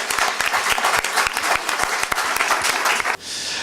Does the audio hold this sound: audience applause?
yes